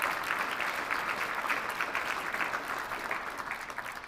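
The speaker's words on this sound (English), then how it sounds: "give them another round of applause" Steady applause from an audience at a military change of responsibility ceremony, a dense even patter of clapping held throughout at moderate distance, with no talking over it.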